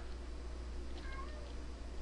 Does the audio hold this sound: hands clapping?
no